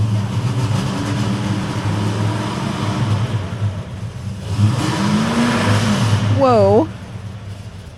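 A cammed Chevy engine rumbles loudly and close with a lumpy, galloping idle, then revs briefly; a man exclaims over it near the end.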